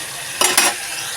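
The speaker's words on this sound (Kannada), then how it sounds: "ಈಗ ಫ್ರೈ ಆಗಕ್ಕೆ ಬಿಟ್ಟೇನಿ ರೀ." Spices sizzling in hot oil in a pan while cooking egg bhurji at home, a brief crackling frying sound with two short louder bursts of stirring in the middle.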